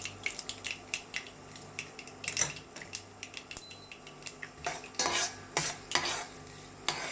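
Chana dal and urad dal are dropped into hot oil with popped mustard seeds and fenugreek for a Tamil fish curry, with crackling sizzle and repeated scraping stirs of a spoon against the pan.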